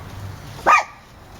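A dog gives a single short, sharp bark, close and loud, with a quiet background before and after.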